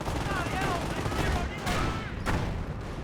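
A Vickers machine gun emplacement fires in Company of Heroes, loud continuous bursts of rapid gunfire filling the whole stretch with brief gaps between volleys.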